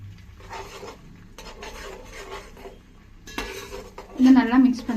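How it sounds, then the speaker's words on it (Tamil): Eggs being stirred in a pan of hot oil for hotel-style chicken fried rice, with a metal utensil scraping and clinking against the pan in uneven bursts and a brief sizzle, close and fairly loud at the end. "இதை நல்லா மிக்ஸ் பண்ணுறேன்."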